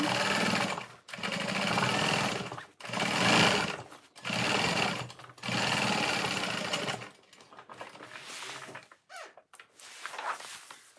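A sewing machine top stitching an Emily tote bag runs in several loud, close bursts of rapid even stitching, each a second or two long and separated by brief pauses, then lighter, choppier stitching toward the end.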